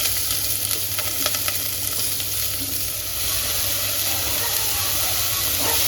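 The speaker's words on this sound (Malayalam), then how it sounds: "സിമ്മിലിട്ടിട്ട് നമുക്ക് നന്നായിട്ട് ഇതേപോലെ വഴറ്റിയെടുക്കാം" Onion sautés on low heat in a pan with cloves, producing a loud, continuous frying hiss with light crackle and occasional stirring scrapes throughout, no voices.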